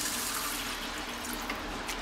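About one and a half cups of water pours into a pot of browned chicken and rice, a steady close splashing rush filling the whole moment with no talk.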